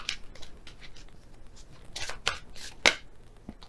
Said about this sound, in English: So I'll shuffle again and see which one comes out.